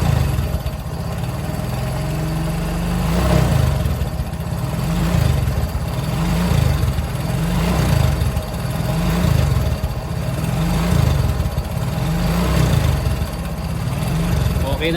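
A motorcycle engine running steadily during a battery charging test, a loud close idle with rhythmic revving swells every couple of seconds, while someone talks over it.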